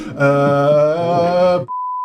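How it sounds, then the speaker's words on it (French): A single steady censor bleep, a loud pure tone, lands abruptly after a burst of sung or shouted voice during a French live tabletop roleplaying session, holding alone to the end. "sur YouTube, du coup, on ajoute juste les bips"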